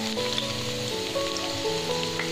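Chopped garlic and ginger sizzle steadily in hot oil in a pan, a continuous close crackling hiss with faint background hum and no talk.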